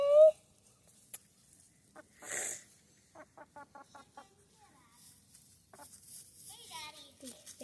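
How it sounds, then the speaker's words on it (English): A chicken on a rainy farm gives a quick run of soft, repeated clucks nearby, between brief bursts of a child's and adults' voices talking. "Dad, you need to get that chicken out of there."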